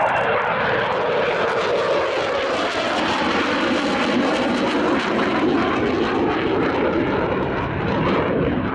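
Military aircraft flying over the Cosford Airshow, a loud steady engine roar filling the whole stretch with no break, close and powerful and heard on its own.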